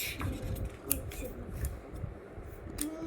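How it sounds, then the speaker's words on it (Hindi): A new pair of scissors snips repeatedly in short, close crisp cuts at an uneven rhythm over a background hum, with faint movement between strokes. "मैं थोड़ा हल्के हाथ से मुझे चलाना पड़ेगा इस कैंची को"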